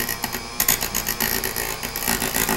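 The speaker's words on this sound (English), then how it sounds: "I'm going to use a Dremel tool with a cutting wheel to do that." A Dremel rotary tool with a cutting wheel runs at low speed, trimming the fin of a reproduction steelhead fish; a dense, steady grinding whir holds close and loud throughout, with no talk.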